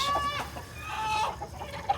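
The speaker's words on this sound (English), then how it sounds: "He's one of the more particularly aggressive roosters." A rooster gives a few short, harsh clucks and squawks close by, fairly quiet, with a little faint background noise.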